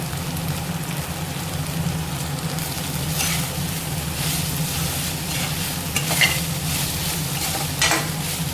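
Cauliflower pieces stir-fry in a hot pan with cooked rice for cauliflower fried rice, giving a steady close sizzle with bursts of crackling and scraping stirs in the latter half.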